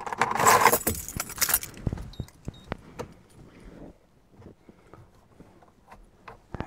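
A bunch of keys jangles loudly up close for about two seconds while being searched for, then fades into scattered light clinks and taps inside a Ford Mondeo Mk3.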